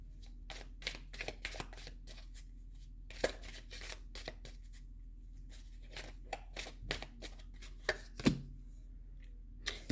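Tarot cards shuffled by hand during a reading: a rapid run of crisp, dry snaps and flicks, close and irregular, with a few louder slaps standing out.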